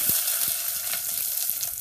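Onions sautéing in hot coconut oil after mustard seeds have popped, for a Kerala green tomato prawn theeyal, give a steady close sizzle with a few soft clicks and pops throughout.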